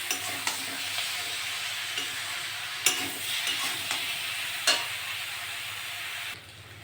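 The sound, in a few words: sautéing chopped tomatoes in a pan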